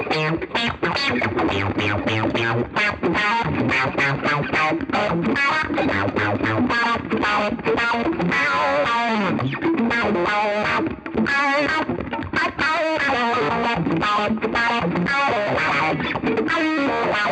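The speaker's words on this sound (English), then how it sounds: "Now let's turn up the gain, and all of a sudden you get a really cool synthy sound to it too." Seymour Duncan Fooz analog fuzz pedal with the gain turned up, producing a loud, dense, distorted guitar tone with a synth-like buzz, played continuously as a busy run of notes throughout.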